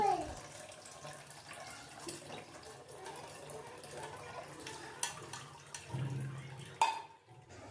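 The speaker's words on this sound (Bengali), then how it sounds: "জল দিয়ে এবার ছানাটাকে ভালো করে ধুয়ে নিচ্ছি" Freshly made chhana curds are rinsed under running water in a kitchen, a soft, continuous splashing and trickling with a few louder spatters near the end and no talking.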